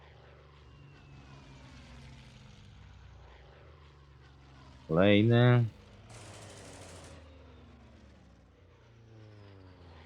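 A propeller aircraft engine in the Hex of Steel strategy video game makes a short, loud burst of droning roar lasting about half a second. Someone speaks quietly over faint game audio.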